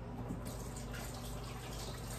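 Tap water runs steadily into a sink while hands are washed under it, a soft continuous splashing stream heard close and fairly quiet in a home kitchen.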